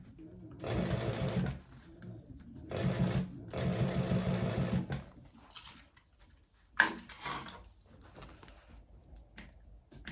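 A sewing machine stitches a handbag lining in short separate runs, each a few seconds of close whirring, with pauses and a sharp clunk between bursts and quiet handling afterward.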